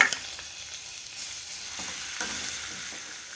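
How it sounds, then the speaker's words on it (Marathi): Steady hiss of garlic sizzling in hot oil, crackling continuously throughout with a few small pops, no voices. "सगळ्यात पहिले आपण फोडणीवरती लसूण घालूया"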